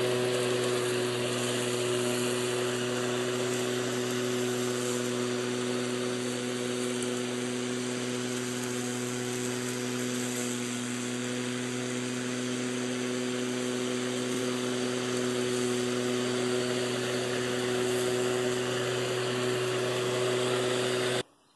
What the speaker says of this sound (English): It's a gas mower